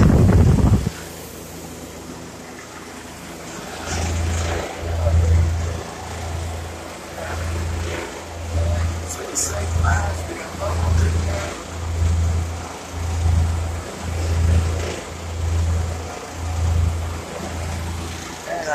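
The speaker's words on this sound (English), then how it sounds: "Compressor's pumping." A walk-in refrigerator compressor runs with a steady, regular low pulsing thump about once a second, close and fairly loud, under a broad windy hiss and occasional clatter.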